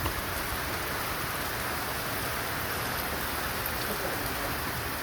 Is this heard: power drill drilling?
no